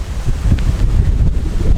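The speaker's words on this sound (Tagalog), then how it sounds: "sobrang lakas po ng bugso ng hangin dito sa taas ng Pungkay Mountain Park" Strong wind gusts buffet the microphone atop Pungkay Mountain Park, a loud, rumbling, uneven roar that swells and dips continuously without any speech.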